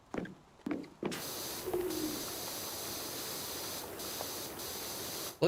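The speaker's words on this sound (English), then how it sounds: "the pigeon is out there talking to me at the moment" Pigeon cooing outside in a few soft, low calls near the start, followed by a steady hiss of spraying water from Power Wash Simulator that stays under it to the end.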